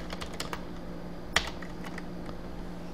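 Keystrokes on a computer keyboard entering text during an Ubuntu 11.04 setup, a quiet run of light clicks with one sharper tap partway through, close to the microphone and with no talking.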